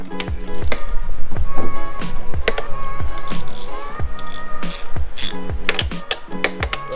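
A socket wrench with a 15 mm socket ratchets steadily while working the brake caliper bolts loose on a Can-Am Ryker three-wheel motorcycle. Repeated close, crisp clicking bursts come in an uneven rhythm, with no voices.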